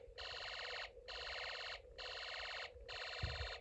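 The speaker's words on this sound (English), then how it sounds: "Energy generated by turning the motor is what sets the alarm off." A Snap Circuits Extreme SC-750 motor-triggered intruder alarm gives out a buzzy electronic tone in four long pulses separated by short gaps, steady and close, with no talking.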